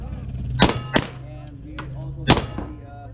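Several sharp gunshots from a 10 mm SDK pistol at an outdoor range during an industry day: a few distinct cracks spaced irregularly, some louder and nearer, with fainter shots from other lanes and little talk.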